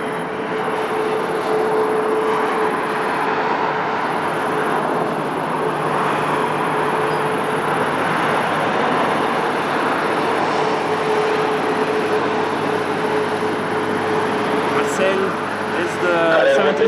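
Airliner taking off at Lisbon Airport on a flight to Recife, a steady broad engine roar holding loud for the whole stretch, with a voice talking over it.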